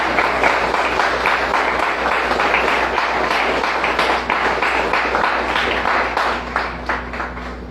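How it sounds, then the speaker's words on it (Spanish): A congregation at a religious service applauds continuously, dense clapping sustained throughout and tapering slightly toward the end. "Den un aplauso al Rey de Reyes."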